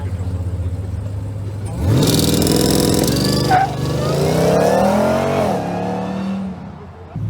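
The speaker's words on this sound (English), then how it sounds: "here's that Aston Martin Vanquish" An Aston Martin Vanquish supercar in an underground garage barks loudly into a rising rev, holds a strong roar with a whine sweeping upward, then settles back to idle, echoing off the concrete.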